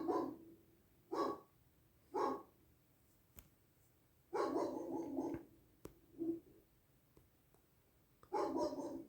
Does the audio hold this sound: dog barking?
yes